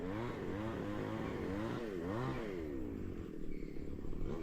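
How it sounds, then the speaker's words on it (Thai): Wood being cut close by at a natural fishing spot: a motor-driven whine rises and falls in pitch in repeated sweeps, loud and continuous throughout. "ไปได้ยินเสียงเลยคือเขา ขึ้นมาตัดไม้ครับ"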